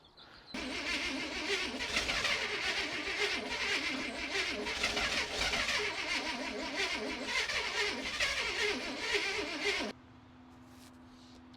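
A 1972 International Cargostar truck engine cranks over for about nine seconds in a loud, steady, rough churning drone without catching, then stops abruptly into a quieter hum.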